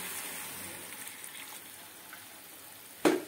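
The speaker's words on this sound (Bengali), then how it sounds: "যে পনিরের জলটা আমি রেখেছি এখানে সেটা অল্প অল্প দিয়ে দিচ্ছি" Leftover paneer water splashed into a sizzling pan of paneer curry, a soft frying hiss throughout, then one sudden loud splash-and-sizzle burst near the end.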